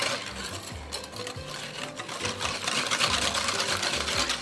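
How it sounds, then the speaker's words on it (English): A regular hand whisk beats liquid chiffon cake batter for a vanilla pudding cake, making a quick, steady rhythmic tapping and rattling against the bowl, close and continuous. "you want to switch to a hand whisk, just a regular whisk, because your mixture will be liquidy at this time"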